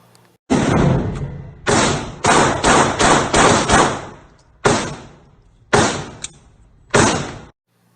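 Pistol shots fired after a draw from a Safariland 6354DO holster, about nine loud, sharp reports in irregular bursts, some in rapid strings and others spaced apart, each followed by a short decaying ring.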